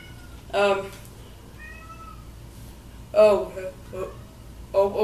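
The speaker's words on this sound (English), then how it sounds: "my kitties tend to be a little noisy" Cats meow several times, short separate cries spread over a few seconds, close by against a quiet background.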